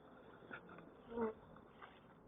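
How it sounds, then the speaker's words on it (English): Honeybees buzz around an open hive during a beekeeping inspection, faint, drifting drones with one louder pass as a bee flies close, and no speech. "It doesn't matter if I get the odd bee."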